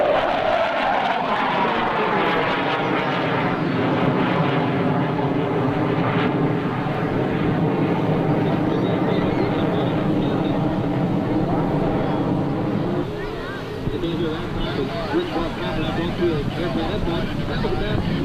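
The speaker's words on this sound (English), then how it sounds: "The one and only F-104 Starfighter flying in the country today." An F-104 Starfighter makes a high-speed pass at the 2004 Atlantic City Airshow, its jet roar sweeping down in pitch as it passes and then lingering as a loud, rumbling wash under an announcer's voice.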